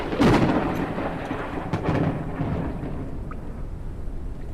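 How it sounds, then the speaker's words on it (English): Thunderstorm in the video game Forever Skies, a loud, close crack of thunder that rolls into a long, low rumble, with a further boom partway through, over a steady wash of storm noise. "The storms, they do sound pretty goddamn good."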